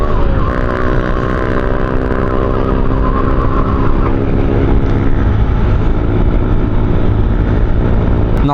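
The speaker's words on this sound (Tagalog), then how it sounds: "Yun o, lakas bumakbak." A motorcycle with a loud exhaust on a Sunday group ride runs as a steady, close, dense engine roar that fills the whole stretch, with a few sharp pops and no talking over it.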